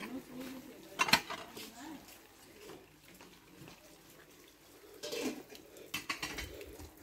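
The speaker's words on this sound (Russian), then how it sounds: "девчонки-посудомойщицы, моют посуду уже." Dishes and cutlery clatter under running water as dishwashers wash up at a Chechen wedding in Vedeno, with scattered clinks and splashes at moderate distance while people talk nearby.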